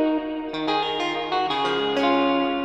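Plucked guitar notes ringing out with a lush Valhalla reverb tail, each strike blooming and shimmering into the next in a slow, spacious phrase.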